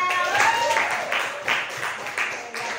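Classmates clap for a pupil during a civics lesson, a short, thin patter of hands in a classroom, with a voice speaking over the start as the light applause carries on.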